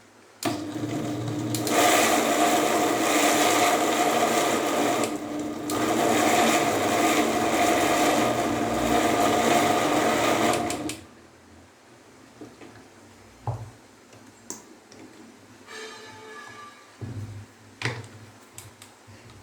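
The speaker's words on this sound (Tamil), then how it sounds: "இப்போ இதெல்லாம் ஒன்றுட்டு அரைச்சிக்கலாம்" A mixer grinder whirs loudly as it grinds cooked mutton for shami kebab, a steady high motor drone running in two bursts with a short dip between, then stopping and giving way to faint clicks and handling sounds.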